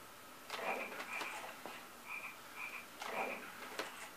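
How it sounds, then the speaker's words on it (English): Frog croaks from the Big Buck Safari arcade game sound in short repeated bursts, fairly quiet against a faint background hiss. "Get to shoot the frog."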